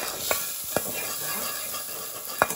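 A spoon scrapes a pan as everyday seasoning is mixed into a paste, with three distinct knocks spaced across a soft, steady sizzle.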